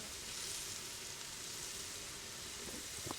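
Pork sausage sizzling in a pan with garlic, cooked for cioppino: a faint, steady hiss of frying with a few soft pops near the end.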